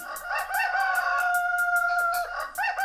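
A rooster crows in a long drawn-out call among clucking chickens in a henhouse, loud and close with no voices.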